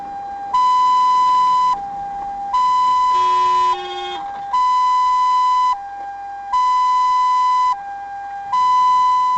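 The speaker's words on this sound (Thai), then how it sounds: "รถพยาบาล ซึ่งกำลังเปิดไฟวิวอวิวอพอดี" A loud two-tone siren alternates between high and low pitches in a steady repeating cycle, with a brief burst of another tone partway through.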